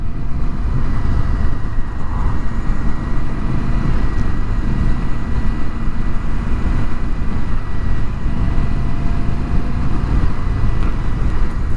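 Steady ride on a 2025 Indian Scout Sixty motorcycle, with a continuous low engine drone and heavy wind rumble throughout and no clear change in pace.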